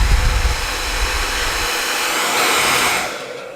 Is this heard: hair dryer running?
yes